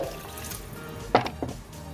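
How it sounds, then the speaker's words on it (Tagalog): Water poured into a pot of salmon miso sinigang while cooking: a short splashy pour near the middle, followed by a smaller second splash, over faint kitchen background. "Dagdagan pa natin ng kunting tubig pa"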